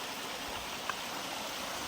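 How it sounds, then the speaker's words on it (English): Steady broadband rush of water cascading over rocks at the top of Fungi Falls in Polk County, North Carolina, a continuous close hiss with no voices. "this is the very top of the falls. It's really more of a cascade than it is a waterfall"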